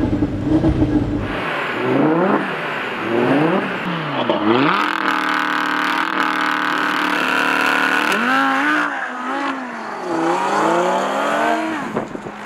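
An Audi R8 sports car launches from a green light in a street race, its engine revving hard through rising gear sweeps, loud and close, with a sustained high roar mid-run and repeated upshifts.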